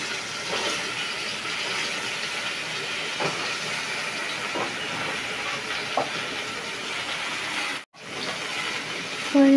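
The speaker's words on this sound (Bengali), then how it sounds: "তো মাছ ভাজার তেলের মধ্যেই আমি পটলগুলোকে একটু হালকা করে ভেজে" Pointed gourd is fried lightly in oil left over from frying catla fish, making a steady, close hissing sizzle throughout with a few faint clicks and a brief dropout near the end.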